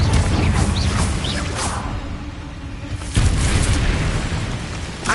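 Confringo blasting spells explode in a Harry Potter video game with loud, booming bursts. A dense roar swells at the start and then returns in a sharp second blast around the middle.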